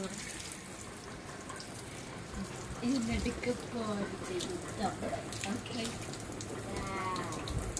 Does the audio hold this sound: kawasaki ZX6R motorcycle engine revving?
no